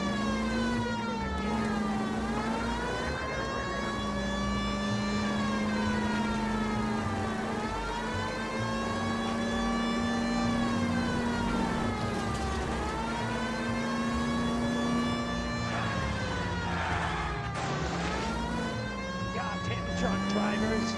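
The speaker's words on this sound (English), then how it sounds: "People might move out of the way quicker if you use the siren." Police car siren from the video game L.A. Noire, a loud continuous wail rising and falling in long repeated sweeps over engine rumble.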